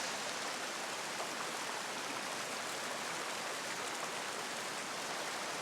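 Water flows steadily in a deep river, an even broadband hiss and rush heard faintly at a distance, with no voices and no changes throughout.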